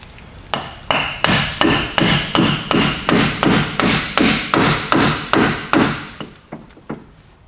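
A hammer drives a new axle into the old axle shaft of a drift car: about fifteen sharp metallic blows land in a steady, even rhythm, then a few slower, lighter taps close it out.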